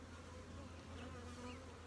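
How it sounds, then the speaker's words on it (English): Honeybees in a busy hive make a dense, steady buzzing drone, close and constant throughout with no voices. "This is a busy little hive."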